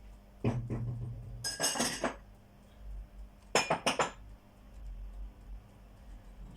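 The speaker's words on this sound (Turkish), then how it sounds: "Şöyle makinayı boşaltayım, bulaşıkları da yerleştireyim." Dishes and cutlery clink and clatter in a few short bursts as a dishwasher is unloaded, with quiet pauses between, close by in a kitchen.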